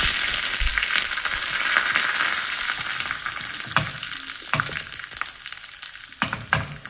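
Fenugreek seeds, dried red chillies and curry leaves sizzle in hot oil for a tempering, a loud, steady frying hiss that eases slightly, with a few sharp stirring scrapes near the end and no voices.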